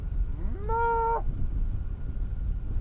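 A single drawn-out moo from a dairy cow on wet coastal grazing land in Ferndale, California, rising then holding steady for about half a second over a constant outdoor rumble, with no talk.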